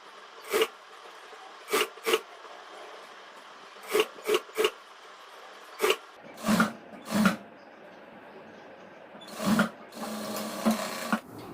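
A sewing machine stitches a boat neck top in a tailoring class, running in short, separate bursts of rapid whirring with quiet gaps between them and a longer run near the end.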